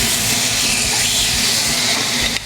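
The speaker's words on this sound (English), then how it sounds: "I want to get a nice sear on that." Marinated beef short rib sears in a dry pan with no oil, giving a loud, steady, close sizzle and hiss that runs unbroken throughout.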